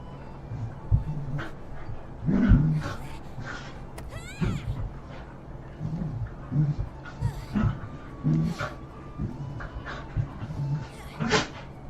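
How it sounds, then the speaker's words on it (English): Two dogs pant, growl and yip in scuffling play, rough noises coming in bursts across the clip, with a person talking over them. "As you can hear my 2 dogs in the background going at each other"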